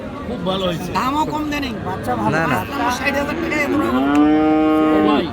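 Cattle, including Friesian calves, moo loudly and close by, one long drawn-out low near the end, over a murmuring crowd and talk at a livestock market in Dinajpur, Bangladesh.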